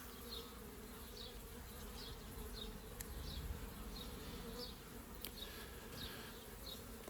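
Honey bees at a backyard hive hum in a constant soft drone, with individual bees buzzing past close by now and then and light handling clicks from the beekeeper.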